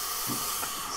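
A Turin Legato espresso machine's steam wand purges water with a steady, close, fairly quiet hiss, unbroken across the short moment.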